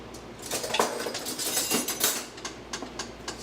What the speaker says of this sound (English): we're gonna go ahead and stir it